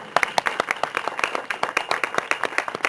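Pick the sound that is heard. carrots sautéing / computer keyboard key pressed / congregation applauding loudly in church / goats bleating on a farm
congregation applauding loudly in church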